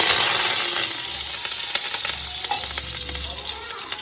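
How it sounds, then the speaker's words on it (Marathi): Cumin seeds and ginger-garlic paste sizzle and crackle steadily in hot oil, a loud, close frying hiss with occasional stirring scrapes and no talking. "तेल गरम झाल्याच्या नंतर त्यामध्ये थोडेसे जिरे टाकून घ्यायचे, 1 चमचा। त्यामध्ये अद्रक लसूण पेस्ट टाकायची।"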